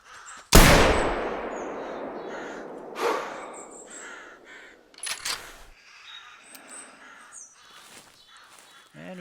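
Crows caw in the hunting video game theHunter Classic, scattered harsh calls ringing out after a loud, sharp rifle shot from a .308 carbon, fading into the outdoor ambience.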